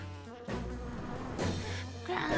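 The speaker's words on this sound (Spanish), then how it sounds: "¡Las avispas los están siguiendo!" Cartoon wasps in a Pororo chase scene buzz in a continuous insect drone that swells and drops in loudness, mixed with background score and effects; no speech.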